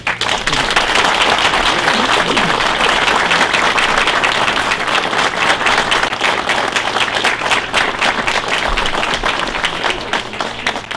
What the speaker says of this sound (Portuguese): Eu peço para ele uma grande salva de palmas.